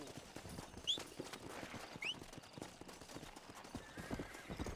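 Horse hooves clip-clop at a steady trot in the Red Dead Redemption video game, with a couple of short neighs or whinnies over the rhythmic beat and faint game sound in the background.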